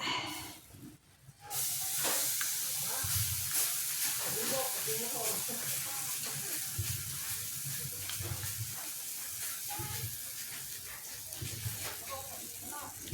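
Sliced bananas fry in a pan over a low flame for a banana cake, giving a steady, dense hiss and sizzle that runs almost without pause. A voice talks now and then over the frying.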